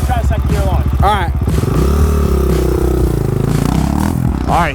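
A Honda 400EX quad fitted with a big bore kit and cam makes a hard second-gear launch, its engine loud and close, revving and climbing in pitch with some clatter, while voices talk over it.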